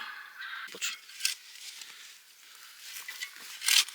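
Crows cawing among a flock of birds near a forest river in spring, several harsh calls rising and falling over a steady hiss of moving water, with a louder burst of calls near the end.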